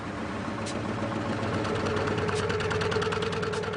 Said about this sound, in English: And the Kamaz comes back to life.